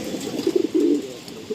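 Chotiyal pigeons cooing close by in a loft, a run of soft, throaty low coos that swell in the middle and return briefly at the end.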